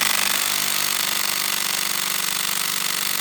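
Impact wrench working a sway bar bolt on a Volkswagen Golf Alltrack, a steady loud continuous rattling hammer held for about three seconds before cutting off abruptly.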